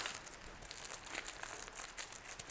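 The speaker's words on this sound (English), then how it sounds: "roll it up in the foil. Twist up the ends" Foil crinkles and crumples as a grilled vegan mushroom burrito is wrapped up and its ends twisted, quiet close-up rustling with short bursts throughout.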